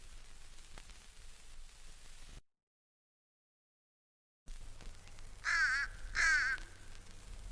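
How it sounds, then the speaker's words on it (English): Two short, nasal, high-pitched caws from an adult fish crow, close together and clear over a faint hissy background. "Some people confuse this call with the cry of a young common crow, but he's the adult fish crow."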